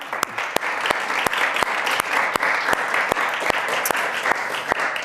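An evening talk audience claps for the next speaker at a data event, steady applause filling the room with sharp individual claps popping through the dense patter, no voices over it.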